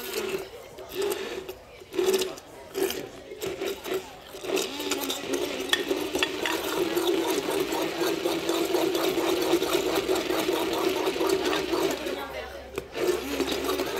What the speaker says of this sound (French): je vais maintenant mixer